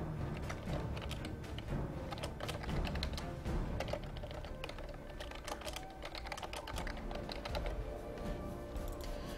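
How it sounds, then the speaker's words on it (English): Fast, continuous typing on a computer keyboard during a Dota 2 all-star match, with dense clicking keystrokes close up over steady background game noise. "so that's enough of me typing"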